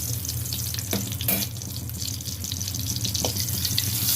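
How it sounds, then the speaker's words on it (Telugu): Crushed garlic cloves fry in hot oil for horse gram dal, a close, continuous sizzle dotted with sharp crackles and pops, with no talking. "చితకెట్లాడుతూ వేగనివ్వాలి."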